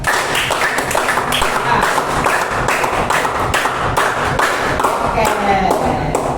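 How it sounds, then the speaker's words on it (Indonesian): A classroom group of students claps hands together loudly in a quick run of sharp, even claps that fills the room, with brief spoken words from a teacher over it. "Kita tepuk tangan yang lebih kencang ya. 10 kali ya."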